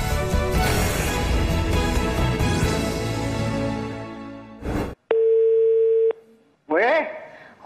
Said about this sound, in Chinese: 我们现场拨通了他的电话